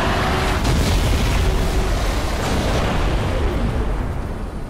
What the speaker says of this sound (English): the explosion still looks sick all these years later